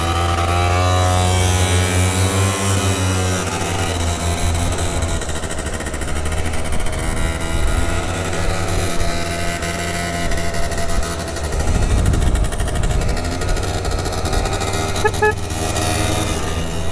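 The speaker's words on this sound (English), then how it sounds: "this exhaust, it does make a big difference in tone. Not necessarily a lot louder." A Genuine Buddy 50 scooter fitted with a Scooterworks sport exhaust runs on the road with a steady buzzing drone throughout, under wind rush and background noise.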